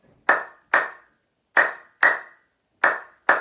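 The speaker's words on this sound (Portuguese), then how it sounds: "A palma estrela é aquela palma que a gente faz com a mão aberta." Six sharp, high open-hand star claps of body percussion ring out one by one, close and dry, in uneven pairs with short silences between.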